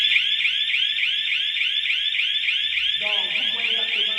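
An electronic security control panel sounds its temperature alarm, a steady repeating electronic beep pattern that holds for the whole stretch, with someone speaking over the second half.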